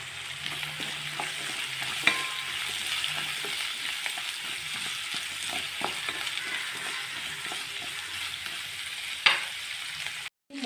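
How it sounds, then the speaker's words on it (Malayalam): Tomato and onion sizzle steadily as they are sautéed in a pan for fish biryani, with crackling fat and occasional spoon scrapes and clinks while stirring. "ഇനി നമുക്ക് പെയ്യെ വഴറ്റി കൊടുക്കാം."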